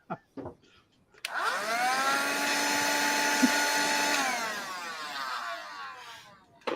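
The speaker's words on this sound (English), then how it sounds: "My dog just heard a vacuum cleaner and he's going nuts." A vacuum cleaner close by, heard in a room with sawdust about, spins up with a rising whine, holds a steady loud drone for several seconds, then winds down, with brief knocks before and after.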